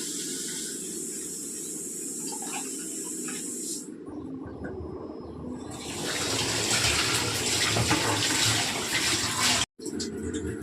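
Country chicken being washed in water with turmeric, with steady running water and splashing that grows fuller and louder partway through before a brief cut near the end.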